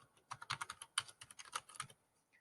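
Rapid bursts of keystrokes on a computer keyboard as footer text is typed into a PowerPoint slide, close and fairly quiet, in an irregular run of clicks that then stops.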